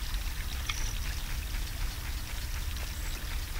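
Steady river water rushing and burbling in Zelda: Ocarina of Time, a continuous close wash of flowing sound with faint higher sparkles and no voices.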